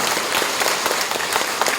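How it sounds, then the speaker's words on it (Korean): A lecture audience in Gapyeong bursts into loud, dense applause, many hands clapping continuously and close for a couple of seconds. "아까 소개 안 된 분들을 위해서 우리 박수 한 번 칩시다"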